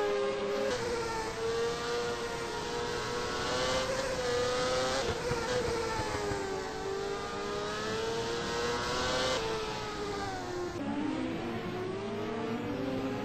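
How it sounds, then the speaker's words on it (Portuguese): Several race car engines scream through a night oval race, one blowing its motor and dropping out, with loud sustained high revs and pitch sweeps as cars pass close by, no talk. "Tem piloto ali estourando o motor."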